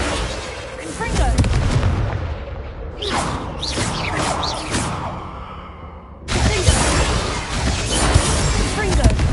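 Confringo spell blasts in the video game Hogwarts Legacy: several sharp fiery explosions with crackling debris and whooshes in quick succession, loud and close, followed by a sustained rumbling roar.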